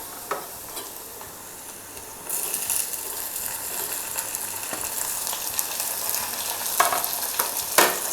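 Onions and tomatoes sauté in a pan for Indian brinjal thokku, a soft steady sizzle that grows louder partway through as ingredients go in, with occasional scraping stirs close by.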